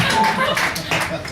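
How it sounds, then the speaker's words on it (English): Audience clapping at a stand-up comedy show, a brief burst of dense, broadband applause lasting about a second. "You can all clap, that's fine."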